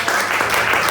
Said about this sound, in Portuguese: Só quem recebe pode dar um forte aplauso ao Senhor Jesus.